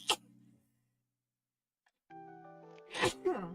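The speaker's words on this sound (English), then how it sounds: "there's the sneezes that I've been talking about" A sharp sneeze bursts out near the start, followed by quiet, then another forceful sneeze near the end over a faint steady hum.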